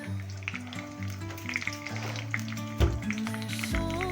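Green chilies fry in hot oil with mustard seeds for a Konkani undi breakfast. A close, steady sizzle and crackle runs throughout, with a few spoon taps and a soft tonal background underneath.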